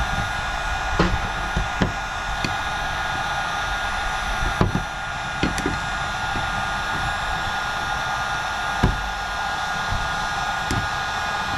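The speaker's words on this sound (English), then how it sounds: "So I'm gonna try a heat gun, because just popping it out doesn't work, but a heat gun's pretty good." A heat gun blows with a loud, steady whooshing roar while softening epoxy over flathead screws, close up, with occasional sharp clicks and knocks from the work breaking through at irregular intervals and no talk.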